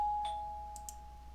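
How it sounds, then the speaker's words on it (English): Doorbell in the Ethereal Enigma game rings once, a clear sustained electronic chime with a couple of faint clicks over low background hum. "Yeah, doorbell just like that"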